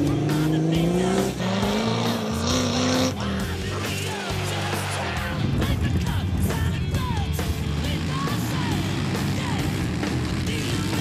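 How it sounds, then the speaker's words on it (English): Off-road race cars on a short course dirt track roar and rev, engines rising and falling as they pass close, with tire noise and a dense, loud, continuous mix. "welcome to round one of Superior Engineering Short Course Off-Road Racing Series"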